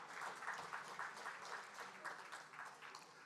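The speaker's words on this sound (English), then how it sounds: "Let's please give the Prime Minister a round of applause." An audience applauds the Prime Minister at a Bahamas diaspora independence awards ceremony, faint, distant clapping with a rhythmic, pulsing character that fades slightly toward the end.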